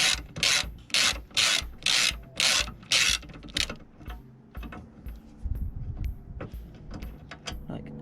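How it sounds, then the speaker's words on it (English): A bonnet bolt on a Seat Ibiza 6F is worked loose with a ratchet, giving a run of rhythmic, loud rasping clicks that then drop into quieter scattered clinks and handling noises. "so that bolt will undo"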